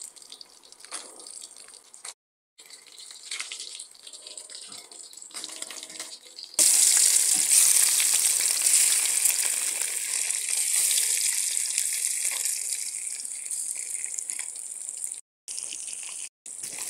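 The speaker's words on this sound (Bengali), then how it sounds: "মাছ ভাজাগুলো উল্টে দেবো।" Pabda fish frying in a pan of oil, a steady close hiss and sizzle that swells sharply partway through and stays loud, with a few brief gaps near the end; no talking.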